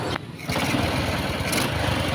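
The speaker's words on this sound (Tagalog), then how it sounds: "iba na po yung tunog ng makina ng ating katropa" A Honda engine runs after a timing chain repair, a steady, close, loud mechanical drone that starts abruptly and holds evenly without knocking, with no talk over it.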